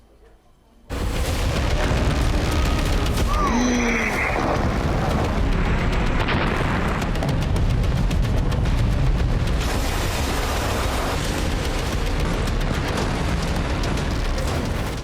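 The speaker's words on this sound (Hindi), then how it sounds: "ये आग, धुआं और बारूदी धमाके बता रहे हैं" A loud, sustained roar of blasts and rumbling booms from an Israeli air strike on Lebanon fills the scene after a quiet start, dense and continuous with crackling debris.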